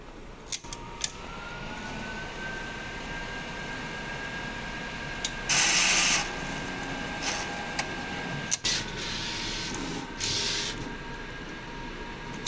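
A sublimation printer running a nozzle check gives a steady mechanical whir with a sustained tone and brief louder bursts of carriage movement, close and continuous with no talk.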